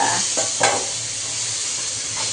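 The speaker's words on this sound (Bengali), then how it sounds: "এই যে এই ম্যাগিটাকে এই সাথে ভাজবো" Maggi noodles frying in a hot pan give off a loud, continuous sizzling hiss close up, with a couple of brief stirring scrapes near the start.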